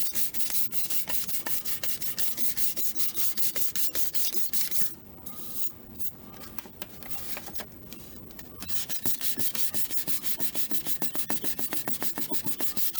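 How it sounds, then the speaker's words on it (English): Steady, continuous sanding of cured epoxy on a wooden spindle, a dense rasping scrape that runs throughout, briefly easing off midway before resuming at full strength, close and loud with no talk. "air pocket right there I'm sanding out"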